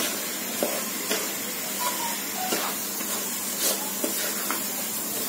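Rice sizzles gently in a spice mix for hilsa polao with a steady, soft frying hiss, broken by a few light scraping stirs at irregular intervals.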